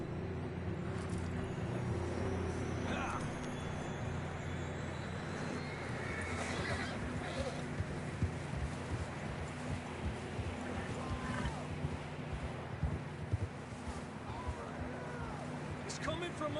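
Horses trot and whinny amid rushing water and a steady background rumble, with people talking over the scene, in the video game Red Dead Redemption 2.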